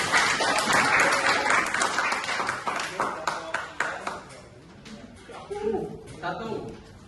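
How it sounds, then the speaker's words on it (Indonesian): A classroom applauds a student group during a practice teaching lesson: dense clapping from many hands that thins out and fades after several seconds, with a voice speaking as it dies down. "Beri tepuk tangan kelompok."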